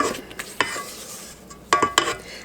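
Cookie dough is scraped down and mixed in a bowl with a utensil. Sharp clinks and scrapes come in sporadic bursts against a soft background, with no talking.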